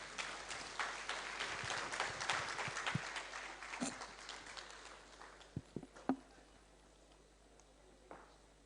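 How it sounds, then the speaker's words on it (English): Scattered clapping from the audience at a petroleum licensing round pre-bid conference in a hotel hall in Lagos, light and uneven, thinning out into a few isolated claps before fading. "A round of applause for him, please."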